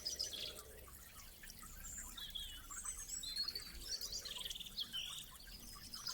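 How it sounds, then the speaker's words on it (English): Birds chirp and sing softly in a natural outdoor setting, a few scattered high calls over a quiet background with faint dripping or insect-like sounds. "The birds singing."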